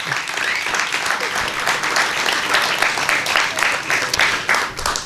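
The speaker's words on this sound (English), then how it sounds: "let's give all of the poets one round of applause" An audience claps for poets at the Flor Y Canto Festival in San Francisco, dense sustained applause from a crowd that stays loud and even throughout.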